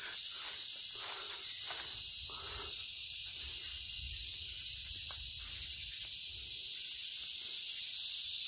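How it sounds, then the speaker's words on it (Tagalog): Steady high, shrill cricket chirring fills a shaded, tree-covered trail on Mt. Talamitam in Nasugbu, Batangas, a constant insect drone with faint low rustling and no voices. "sa naririnig nyo naman ang ingay ng kuliglig"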